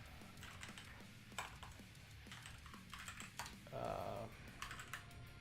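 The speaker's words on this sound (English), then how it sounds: "oh Lord, typing too fast." Rapid typing on a computer keyboard, a quick, steady clatter of keys running throughout at moderate volume.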